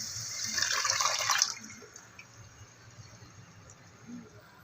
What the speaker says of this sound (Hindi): अभी इमली का पानी डाल रही हूँ।